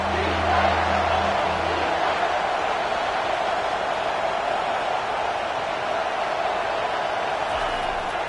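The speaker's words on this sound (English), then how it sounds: "This crowd knows when to bring it." Stadium crowd in the NCAA 25 college football video game, a dense, steady roar of broadband noise throughout, with low tones briefly underneath at the start.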